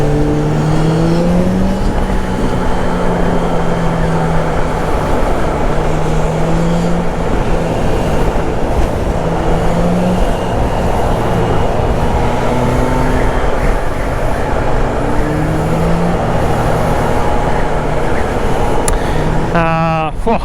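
A 2021 Kawasaki Z H2, a 200-horsepower motorcycle, being ridden at steady speed, its engine droning continuously with pitch sweeping up and down through gear changes under loud wind rush, with someone talking over it.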